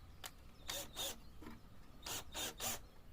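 Rasping, grinding bursts of a screw being driven into wood while a beehive is assembled, coming in several short strokes close by, with no talk.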